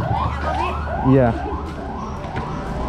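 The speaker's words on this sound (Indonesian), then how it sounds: "Wow, ada ambulan." Ambulance siren wailing in repeated rising sweeps as it passes along a street, fairly close and prominent over traffic rumble, with a few words of conversation.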